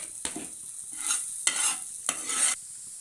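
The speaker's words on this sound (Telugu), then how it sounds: "బటర్ మెల్ట్ అయిన తర్వాత కొంచెం గార్లిక్ వేసుకొని ఫ్రై చేసుకోండి" Garlic frying in melted butter in a pan for red sauce pasta. A soft sizzle is broken by several bursts of stirring and scraping, close and moderately loud, with no talking.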